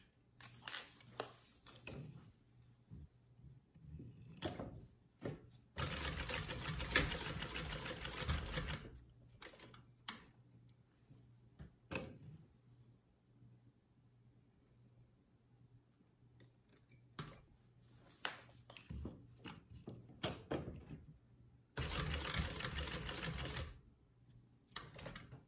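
A domestic sewing machine stitching a zipper pouch, running in short and longer bursts of rapid, even whirring with quiet pauses and small handling clicks between.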